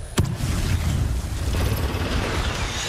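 A weapon is reloaded in Apex Legends: a sharp metallic click, then quick rattling and ratcheting mechanical clatter over a low rumble, close and fairly loud, with no voices.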